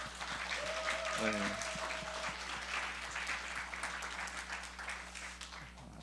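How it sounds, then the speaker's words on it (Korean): A church congregation at a New Year's Day youth service applauds in welcome, giving sustained dense clapping from a crowd that fills the room, with a brief spoken word near the start and a faint steady hum beneath. "우리 박수로 환영하고 축복할까요?"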